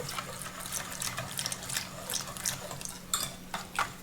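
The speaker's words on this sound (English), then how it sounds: "gradually add in 4 cups of milk or 1 quart of milk." Milk pours gradually into a sugar and egg mixture with soft liquid splashes and trickles, close and quiet over a low steady hum.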